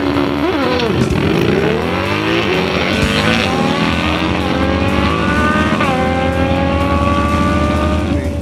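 Drag racing cars roar at Barona 8th Mile Drag Strip in Lakeside, with loud engines revving and rising in pitch through the gears. The noise is continuous and close, with some tire squeal.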